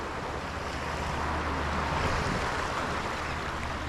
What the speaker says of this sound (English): The waves aren't too big here anymore.